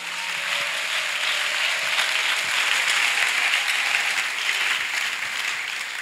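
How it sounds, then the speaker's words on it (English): Congregation clapping during a spiritual training gathering: dense, steady applause from a large group filling the space evenly and holding at a constant level from start to finish. "Let's clap for him."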